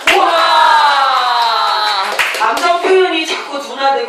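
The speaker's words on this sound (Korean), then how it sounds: "이왕이면 와 하면서 박수 치세요" A group in a dementia-prevention laughter and recreation class cheers with a drawn-out shout while clapping, the voices loud and close, followed by scattered claps and talk.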